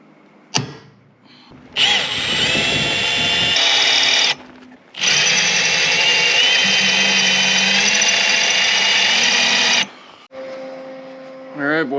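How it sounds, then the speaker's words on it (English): A power drill works on a seized winch from a 1998 Dynaweld trailer, running in two long, loud, steady bursts broken by short pauses and clatter, with a brief voice between bursts. "drilling gets me nowhere and just pisses me off"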